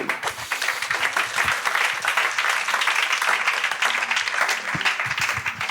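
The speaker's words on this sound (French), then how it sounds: "On va acclamer le Seigneur pour sa parole." A church congregation applauds the Lord, a sustained wave of many hands clapping with scattered cheers and voices underneath.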